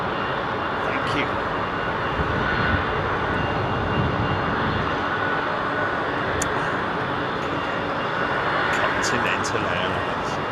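Ex-Continental Boeing 777 jet at Heathrow, a steady engine rumble and hiss at middle distance, with a voice talking over the noise.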